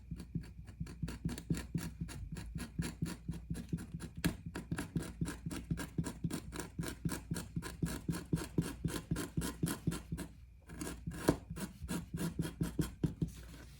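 A knife roughing the edge of leather on a handmade bifold wallet, a steady series of quick, close rasping strokes in an even rhythm with a brief pause near the end.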